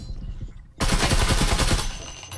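Rapid bursts of gunfire ring out close and loud in the VR shooter Breachers, a dense spray of rounds that starts abruptly after a quieter stretch and runs steadily before tapering.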